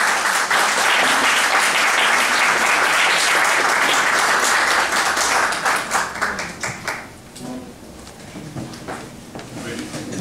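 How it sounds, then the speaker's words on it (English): An audience at a high school poetry contest applauds a poet called up to read, loud and sustained for about six seconds before tapering into a few scattered claps. "If we could round of applause for Richard Howard."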